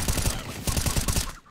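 Rapid bursts of first-person shooter gunfire in a competitive match at the Seattle Home Show, a dense, loud volley of repeated shots filling the short moment before a brief pause.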